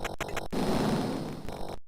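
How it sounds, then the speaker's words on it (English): Explosions go off nonstop in the Amiga video game Rick Dangerous II, a dense, harsh, crackling roar of noise with brief cuts and bursts, loud and continuous. "It's just constant explosions going on"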